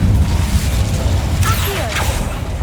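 A fire spell is cast in a video game: a dense rumbling burst of magical flame with a whooshing sweep, loud and close, sustained through the moment with faint tonal shimmer over a heavy low roar.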